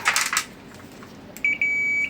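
A brief rattle and clatter, then a high electronic continuity tester buzzer beeps in short bursts before holding a steady tone, while checking a fuse on a Panasonic appliance with an H11 error.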